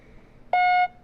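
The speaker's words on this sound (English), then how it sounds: "Beep." A single short, loud electronic beep from a shot timer, a clean steady tone lasting about a third of a second, alone over quiet background.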